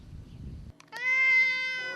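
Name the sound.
cat meowing near a grave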